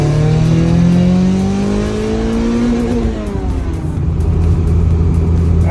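A B20V-swapped 1999 Honda Civic LX pulls hard in second gear, its engine note climbing steadily in pitch before a brief dip as it settles; loud, close, continuous and with no talking.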